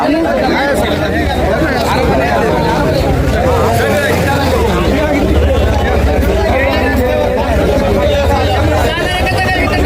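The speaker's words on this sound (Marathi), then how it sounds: "आंतरवली सराटी बघू शकता इथं मराठ्या मावळ्यांची खूप गर्दी" A large crowd at a snack, banana and khichdi distribution at Antarwali Sarati fills the air with dense, continuous babble of many voices, steady and close, over a low rumbling hum.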